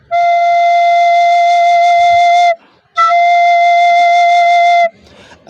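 Recorder sounding a sustained E, fingered with the first three holes and the bottom hole covered, in two long steady loud tones of about two and a half and two seconds separated by a brief breath gap.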